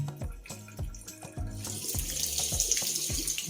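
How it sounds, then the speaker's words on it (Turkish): Hot water runs steadily from an ECA bathroom sink mixer tap into the basin after a cartridge repair, with a close splashing stream and soft rhythmic gurgles that grow fuller as the flow opens up. "Tamam, sıcak suyu da açalım."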